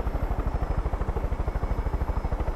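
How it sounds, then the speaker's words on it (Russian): A helicopter in the Far Cry 5 video game thumps with a rapid, steady rotor beat, loud and close, a low rhythmic chopping throughout. "Меня эти вертолеты так бесят."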